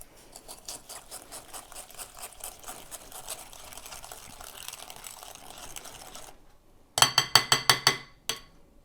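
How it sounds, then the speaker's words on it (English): A whisk beats wet ingredients and sugar in a bowl with a fast, steady run of soft rhythmic strokes, then several sharper, louder clinks against the bowl near the end. "I'm going to give it a bit of a whisk just to combine all these ingredients"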